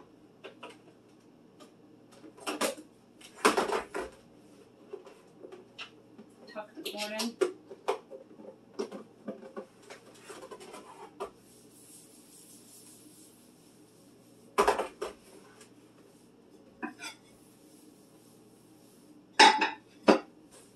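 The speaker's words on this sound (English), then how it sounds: "I'm gonna wash out the coffee pot." A coffee pot is washed out in a home kitchen, with scattered clinks and clatters of glass and dishes coming in sharp, irregular bursts between quiet stretches, close to the microphone.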